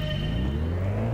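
Mazda Roadster engine in the racing game Gran Turismo 6, a steady mid-pitched drone held loud and continuous throughout, with no talk over it.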